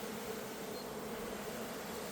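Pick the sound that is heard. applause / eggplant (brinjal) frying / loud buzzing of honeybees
loud buzzing of honeybees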